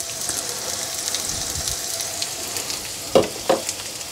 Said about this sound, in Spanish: El tocino no lo terminé de cocer, lo dejé poquito crudo porque quiero que aquí se me termine de cocer.